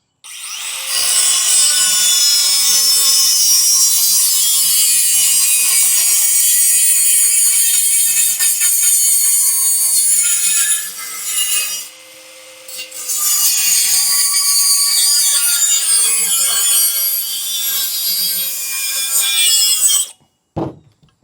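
A metal cutoff tool slices through stainless chrome closet pipe with a loud, continuous harsh grinding rasp, close up, lasting about twenty seconds with a brief dip partway, then stopping abruptly.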